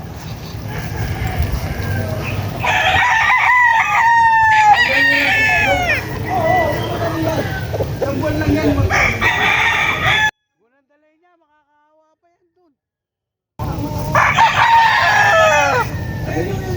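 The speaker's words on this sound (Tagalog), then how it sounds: "Ayan mga kalaki oh, mga manok niya." Loud roosters crow repeatedly up close with chickens clucking around them, broken by a few seconds of silence before the crowing resumes.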